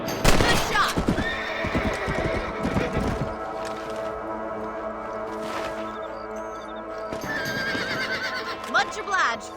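Horses whinny and snort in the Red Dead Redemption video game, with several loud neighs over soft clip-clopping hooves, while people talk in between.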